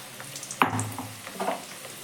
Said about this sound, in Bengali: অল্প অল্প করে চিড়ে দিয়ে তেলের মধ্যে ভেজে নিতে হবে